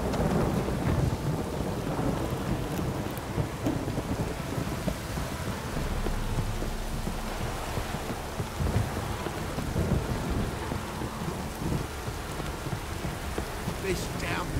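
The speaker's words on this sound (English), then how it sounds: "This downpour's a bastard" Heavy rain pours down in a steady, dense roar, with low thunder rumbling through the downpour.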